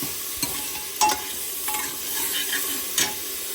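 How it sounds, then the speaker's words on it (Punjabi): Onion, tomato, garlic and green chilli fry together in a pan, a steady sizzle broken by a few stirring scrapes and light clinks, close and without talk. "ਪਿਆਜ਼ ਟਮਾਟਰ ਲਸਣ ਹਰੀ ਮਿਰਚ ਸਾਰੀ ਚਾਰ ਚੀਜ਼ਾਂ ਮਿਕਸ ਕਰਕੇ ਭੁੰਨ ਰਹੀ ਹੈ"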